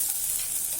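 Masala spices hitting hot oil in a frying pan, a steady continuous sizzle with bright hiss, close and even throughout the brief moment, no voices.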